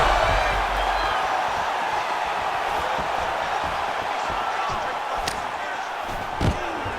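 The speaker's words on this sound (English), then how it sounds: "nice pop there from the crowd as he finally gets the takedown" An arena crowd in the video game UFC 5 roars steadily as a fighter lands a takedown, a dense sustained cheer with a faint thud near the end.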